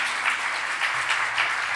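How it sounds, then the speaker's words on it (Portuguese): Steady applause from a church congregation fills the space, a dense wash of clapping with faint voices underneath. "Eu queria uma salva de palmas para eles"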